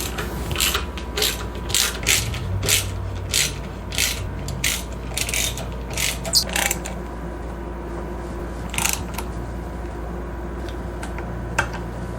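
Ratchet wrench bolting a power steering pump bracket onto a Chevy 350 engine in a G-Body Cutlass, a quick rhythmic run of close, crisp clicks for the first seven seconds, then a few scattered clicks.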